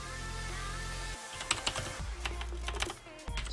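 Quick, irregular clicks of typing on a computer keyboard, close and clear, with a constant low electronic hum under the keystrokes.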